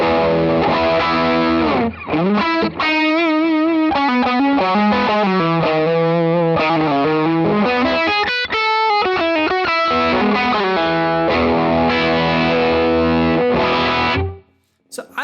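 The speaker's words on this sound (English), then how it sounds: "if I need something that's truly just saturated, personally, I go for the AC booster" Saturated electric guitar played through an AC booster drive model on a Fractal FM9, a continuous gainy chord-and-riff passage with a brief gap near the end, loud and alone without talk.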